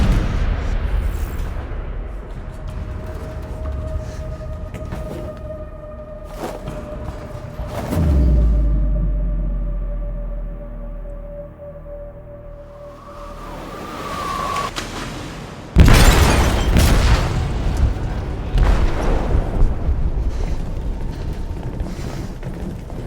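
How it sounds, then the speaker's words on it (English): A ship's hold explosion in the video game Detroit: Become Human, a deep rumbling boom that hits suddenly and rolls on loudly amid mechanical creaks and ambient game sound. "They detonated an explosive in the hold."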